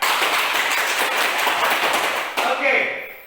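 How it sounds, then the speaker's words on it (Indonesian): A school class claps hands together in a short, loud burst of rapid clapping that dies away after about two seconds, followed by a teacher speaking. "Tepuk tangan."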